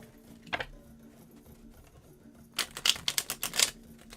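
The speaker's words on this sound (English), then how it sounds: "How I love shuffling a US Games deck." Riffle and snap of a US Games tarot deck being shuffled by hand, a brief flick early on, then a quick burst of crisp, close card slaps near the end.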